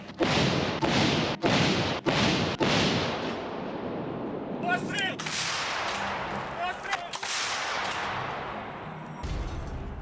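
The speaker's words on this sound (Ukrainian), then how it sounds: "Постріл!" Several sharp, heavy artillery gun blasts ring out in quick succession on the front line in Ukraine, then a fainter boom and crackling follow, with distant voices in between.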